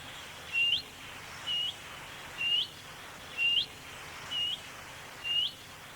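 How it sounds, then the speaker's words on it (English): A willow warbler gives its plaintive, rising two-part 'hoo-eet' alarm call six times at roughly one-second intervals. The bird is moderately close, each note clear above a soft outdoor background. "That very plaintive hoo-eet is a willow warbler alarm call"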